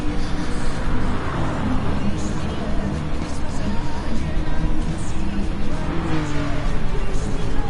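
A fast race car's engine drones and revs steadily in Gran Turismo Sport, a loud continuous motor tone with shifting pitch, mixed with game sound and a voice talking over it.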